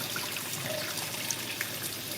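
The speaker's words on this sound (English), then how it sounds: "you want to really get that rice moving around so you can rinse your grains really well" Water swishing and trickling as rice grains are rinsed in a pot, a steady close wet churning with small splashes throughout.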